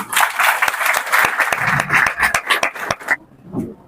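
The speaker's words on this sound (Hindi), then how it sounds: "ताली बजनी चाहिए।" Close, lively clapping from a crowd at a Teachers' Day celebration in a free coaching institute in Bhagalpur, loud and uneven with sharp individual claps, cutting off abruptly near the end before a brief faint voice.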